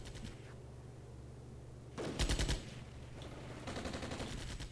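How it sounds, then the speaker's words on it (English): A medium machine gun fires in the Armored Brigade war game, its short rattling bursts standing out over a steady low rumble of battle noise, with a louder burst midway and another toward the end. "we even have our medium machine gun firing here, too"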